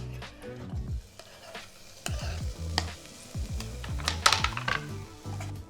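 Tinned tomatoes go into a pan of sizzling spices for prawn curry, with soft frying crackle broken by scraping stirs and knocks of a utensil against the pan.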